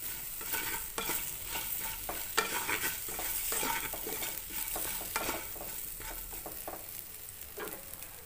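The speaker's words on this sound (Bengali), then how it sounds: "10 সেকেন্ড একটু ভাজা করে নেব" Spices with salt and turmeric powder fry briefly in a pan, a light continuous sizzle broken by repeated scraping stirs of a spatula, close and fairly quiet.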